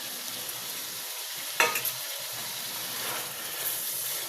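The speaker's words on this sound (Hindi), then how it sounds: "अब इस जगह पे इसमें टमाटर ऐड करेंगे।" Chopped tomatoes being stirred into a frying chicken and potato gravy in a pan, with a steady close sizzle and hiss throughout and a sharper burst of spatter as they hit the hot oil.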